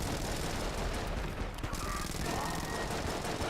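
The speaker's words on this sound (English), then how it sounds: "Oh, it's a freaking jammed SMG!" Rapid SMG gunfire from enemies in the video game Enter the Gungeon, a dense continuous stream of shots filling the whole stretch under busy game sound, fairly loud throughout.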